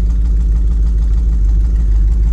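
A Barkas B1000 van idles on a cold day, its exhaust giving off a steady, low, throbbing burble with an even pulsing rhythm, loud and close throughout.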